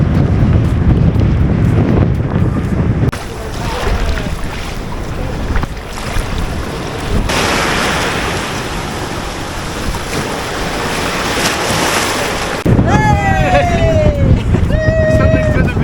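Indian Ocean waves and wind on the Southern Cape coast of South Africa: broad rushing surf and gusting wind noise buffeting the microphone throughout, with sharp chirping tones near the end.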